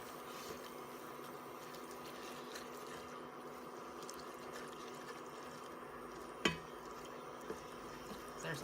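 A banana peel mixture with liquid smoke and spices simmers down in a pan, making a soft, steady bubbling and faint hiss, with one sharp clink partway through.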